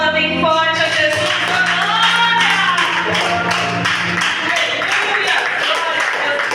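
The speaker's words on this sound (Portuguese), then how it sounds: "Aplauda bem forte a Jesus." Church congregation applauding loudly for Jesus, dense continuous clapping held at a steady level throughout, with music and voices mixed underneath.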